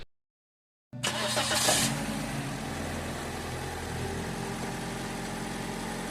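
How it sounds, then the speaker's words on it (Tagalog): A brief silence, then a Toyota Vios engine cranks and catches with a quick rev before settling into a steady, close idle during an oil change and flush. "At pag naisalin ko na yan, pwede ko nang pa-start itong makina."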